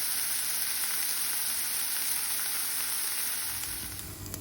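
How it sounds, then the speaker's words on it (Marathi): Dried mackerel fries in oil in a pan with a continuous bright sizzle, close and steady throughout, easing slightly at the very end. "आतां तें फ्रायींग पॅनान तेल घालें आनी आमी आतां तें मातशें झोपडाय मातशें फ्राय करुया."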